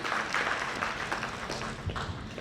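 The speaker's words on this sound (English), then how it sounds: "let's welcome him with a big round of applause here" An audience claps at the International Healthcare Awards 2017 ceremony, a dense, steady round of applause lasting a couple of seconds at moderate volume.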